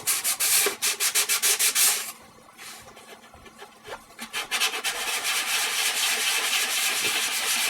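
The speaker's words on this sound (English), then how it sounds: "Should be using a sanding block on this flat edge" Rapid rhythmic rasping of sandpaper rubbed back and forth by hand along the edge of a wing saddle, a brief pause midway, then quicker strokes resuming close up.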